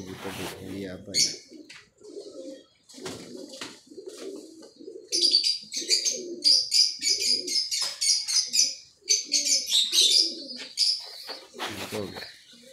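Pigeons coo repeatedly at close range, with soft chirps mixed in, while someone talks over much of the cooing.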